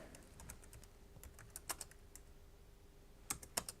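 Quiet keystrokes on a malfunctioning computer keyboard come in scattered, uneven clusters of sharp clicks separated by pauses, close and isolated with no talking.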